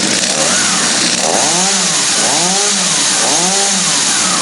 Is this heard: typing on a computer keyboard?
no